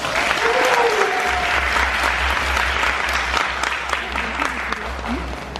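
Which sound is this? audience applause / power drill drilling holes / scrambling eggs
audience applause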